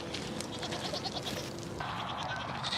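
Goats bleat repeatedly while being fed on a farm, a steady chorus of several animals over continuous background noise, with no talking.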